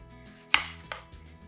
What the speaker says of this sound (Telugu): ఫస్ట్ టమాటాని కట్ చేసుకోండి